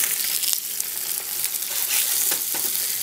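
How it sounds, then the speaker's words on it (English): Garlic-seasoned Spam slices frying in a stovetop pan, a loud continuous sizzle with crackling spatters and a couple of sharp pops, close up and with no voices. "And we're just going to leave that on the top and fry these up."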